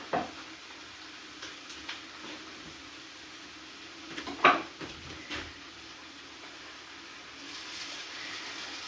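A stir fry with sweet chili sauce sizzles quietly in a pan, a soft continuous hiss marked by a few scattered clinks and a sharper utensil knock partway through.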